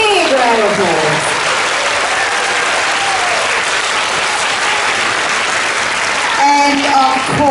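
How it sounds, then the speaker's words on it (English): Sustained round of applause from a school assembly audience of children and parents, loud and steady throughout, with children's voices calling out over the clapping near the start and end. "Come on, let's do a big round of applause."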